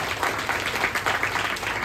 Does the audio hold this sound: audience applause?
yes